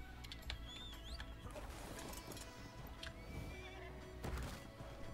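Horse neighing and whinnying in the game ARK: Survival Evolved, with clip-clop hoofbeats, over a dense, busy game soundscape with bird-like calls and occasional low talk.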